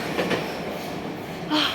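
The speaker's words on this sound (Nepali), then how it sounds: "ट्रेन चाहिँ आइसक्यो।" A train rumbles steadily as it arrives at a station in Tokyo, Japan, with a faint clatter of wheels, then a brief high metallic squeal near the end.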